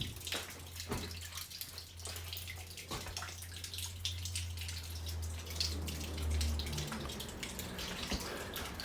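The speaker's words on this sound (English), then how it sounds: "There's water still running." Water runs and drips in the basement of an abandoned trolley station, with a steady low trickle and scattered close drips echoing in the empty space.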